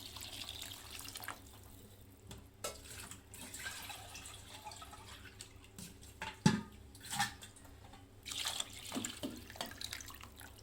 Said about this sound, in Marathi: तर आता 1 तांब्या पाणी टाकते